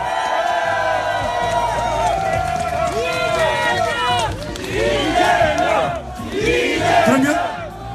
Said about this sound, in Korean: 우리 이재명 시장과 모든 분들에게 새로운 대한민국을 출발하는 이분들에게 뜨거운 격려 박수 부탁드립니다.